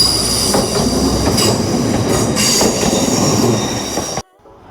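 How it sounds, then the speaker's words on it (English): An LNER Azuma train rolls slowly past at Manors station in Newcastle, a loud close rumble of wheels on rail with squealing and rhythmic clacks before the sound drops away suddenly. "now slowly making his way past is going to be an LNER Zoomer working from London King's Cross down to, up to Edinburgh Waverley"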